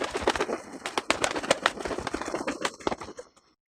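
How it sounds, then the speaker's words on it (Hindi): Pigeon sounds with wing flapping, heard as a run of sharp, rapid broadband flutters and bursts at close range, lasting about three seconds before falling silent. "पक्षी जब अपने पंख को फड़फड़ाते हैं तो हमें ध्वनि सुनाई देती है"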